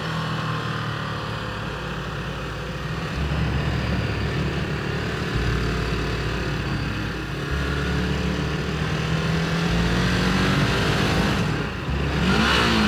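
A sports car with auto-blip on downshifts revs in repeated rising and falling surges on a lonely mountain road on Gran Canaria, the GC-210, with a steady drone of wind and tyre noise underneath.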